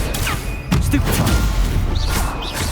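A Stupefy spell is cast in Hogwarts Legacy. Sharp magical bursts and impact crashes land in quick succession over a busy game soundscape.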